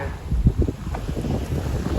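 Cool wind blows steadily across the Alang ship breaking yard, a low, buffeting rumble against the microphone lasting a couple of seconds.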